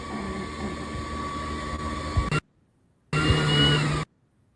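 A vacuum cleaner drones steadily, cuts off abruptly, then starts up again briefly before stopping.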